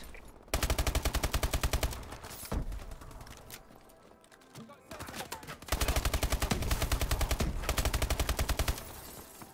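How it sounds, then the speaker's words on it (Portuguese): Rapid automatic gunfire rattles in long, dense bursts in a co-op shooter video game, with scattered shorter shots and clatter in the gaps between them. "tá um tiroteio esse meio aqui que tá foda"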